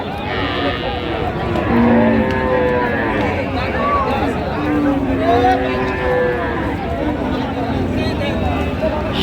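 A Sahiwal cow and bull calf moo in several drawn-out calls amid the chatter of a busy Raniganj cattle market, with voices of traders talking nearby.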